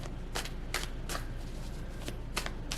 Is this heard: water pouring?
no